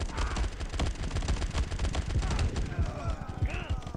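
Rapid bursts of automatic gunfire crackle close and loud in a mobile World War 2 first-person shooter game, with dense overlapping shots and small swells in the action.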